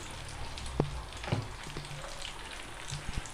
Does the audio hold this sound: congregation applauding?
no